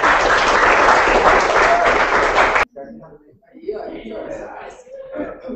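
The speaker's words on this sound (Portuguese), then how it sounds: "Bem, uma salva de palmas." A high-school class bursts into loud, sustained clapping for a couple of seconds, then it stops abruptly and a single voice begins talking.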